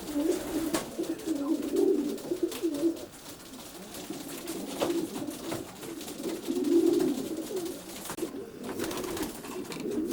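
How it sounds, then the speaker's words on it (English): Stock pigeons coo inside a loft at feeding time, their low, throaty calls rising and falling continuously and close by, with a few soft clatters and flutters mixed in. "This is Bob's loft manager, Andy, feeding some of the stock pigeons."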